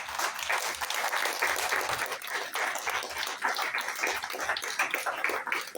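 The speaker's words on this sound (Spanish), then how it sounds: "¿Cuántos pueden darle un aplauso al Señor Jesús?" A church congregation applauds continuously for several seconds, a dense, even wash of many hands clapping at moderate volume with no clear voices over it.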